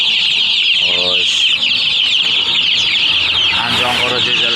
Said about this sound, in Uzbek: Andijon qora jo'jalari 18 kunligini berdim bugun uydan.